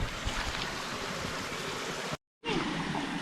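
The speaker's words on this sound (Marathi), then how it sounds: "आता पाण्याचं प्रमाण वाढलं आहे आणि फ्लो पण वाढला आहे" Continuous rushing water from a flowing stream in a Konkan village, steady and fairly close, briefly cutting out for a moment before resuming.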